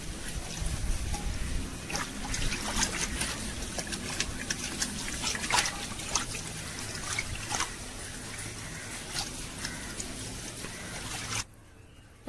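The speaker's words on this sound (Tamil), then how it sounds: "ரெண்டுக்கு 3 தடவை தண்ணி ஊற்றி நம்ம அலசியாச்சு." Cut chicken pieces being rinsed in water in a home kitchen, continuous sloshing and trickling with scattered splashes and clatter, close and moderately quiet, stopping abruptly near the end, no talking.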